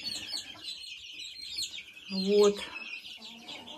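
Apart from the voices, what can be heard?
chicks clucking while eating compound feed pellets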